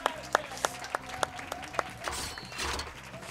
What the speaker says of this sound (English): That was fantastic. Round of applause.